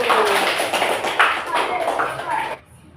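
Classroom of students clapping for the first group after its presentation, a dense patter of hands with children's voices mixed in, stopping abruptly near the end.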